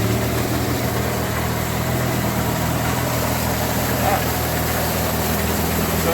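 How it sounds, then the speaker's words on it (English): A JetDrive outboard boat engine ticks over at idle, a steady, even mechanical drone with a low hum and constant vibration, close by and unchanging throughout. "it just looks like any ordinary outboard, sat there ticking over"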